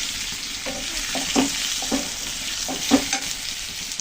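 Vegetables frying lightly in a pan with chili powder, a continuous sizzle broken by several distinct scraping stirs of a spatula at irregular intervals, close and clear with no voices.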